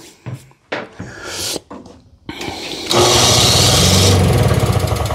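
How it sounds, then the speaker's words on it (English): A snowblower engine is cranked by its electric starter: a few short, choppy bursts first, then a loud, sustained, rhythmically pulsing turnover that runs to the end, close up and with no talk. "Well, now it works. The engine actually turns over."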